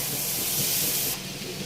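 Onions with turmeric and ground chili frying in a pan for potato rice (aloo tahari), giving a steady close hiss of sizzling oil that eases slightly toward the end.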